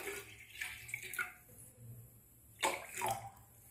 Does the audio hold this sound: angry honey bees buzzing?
no